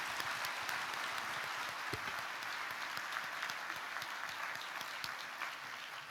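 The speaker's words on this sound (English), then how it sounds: "Let's give them a round of applause." A forum audience applauds a panel at an opening plenary, a steady, dense wash of clapping from a large room, holding at an even level throughout with no talk over it.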